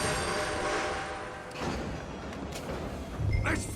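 A moving train rumbles continuously in Red Dead Redemption 2, loud and close, with a sharp clank midway and a heavier thud near the end.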